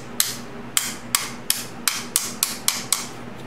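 Nine sharp metallic hammer taps on the pins of a Honda Sabre motorcycle ring out one after another at a steady, slightly quickening pace, close and crisp over a quiet background, with no speech.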